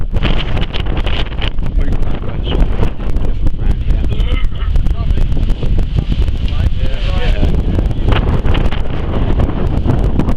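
Wind gusts and buffets constantly outdoors at a camp with an old-style canvas tent, a loud, rough rushing right at the microphone, with voices faintly underneath.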